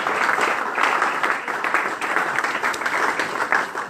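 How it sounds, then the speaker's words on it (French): A church congregation claps loudly and continuously, a dense, even wash of many hands filling the room without a break. "Acclamons très fort pour la gloire de Dieu"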